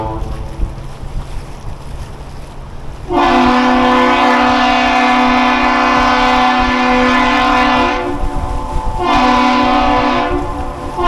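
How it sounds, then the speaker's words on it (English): Horn of the lake freighter H. Lee White departing Duluth, sounding the captain's salute: a loud, deep long blast followed by a shorter second blast, ringing out over a quiet harbour. "The captain's salute, it is one long and two short blasts of a horn."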